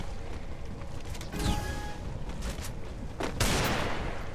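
Gunfire in the Free Fire video game, a few muffled shot bursts and booms over a dense, noisy game mix, with no talk.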